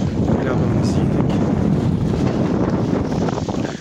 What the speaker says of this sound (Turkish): Yalnız rüzgar çok yoğun.